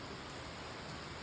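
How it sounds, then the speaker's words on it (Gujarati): Steady rain falling at night in a village courtyard, a soft even hiss that continues without a break and without voices. "આવ્યા ત્યાં તો વરસાદ"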